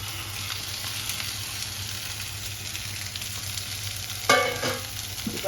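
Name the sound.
chopped french beans added to pan, frying and stirring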